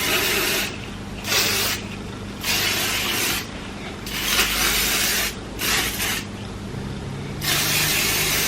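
Several short hissing bursts of a Redken spray wax can, each lasting about a second, separated by brief pauses, close and fairly loud.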